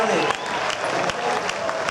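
A crowd at an indoor skating event in Toulouse applauds a skater, a dense, steady wash of clapping from many hands throughout, with a commentator's voice audible over it.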